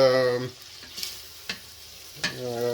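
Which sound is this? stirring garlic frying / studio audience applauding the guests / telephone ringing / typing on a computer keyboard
stirring garlic frying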